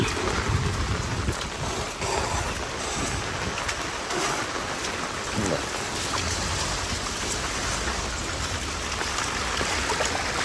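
Heavy rain pouring down outdoors, a dense, steady hiss with low rumbling, loud and continuous throughout with no voices.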